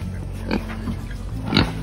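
Pig grunting near a wooden feeder, two short snorting grunts about a second apart, close and moderately loud over a low background hum.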